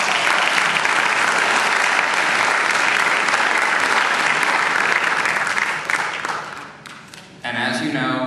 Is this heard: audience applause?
yes